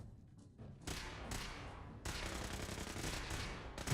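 Loud Fallout 4 gunfire in a dense, continuous barrage of bursts, starting thinly and then building into heavy sustained shooting with thuds.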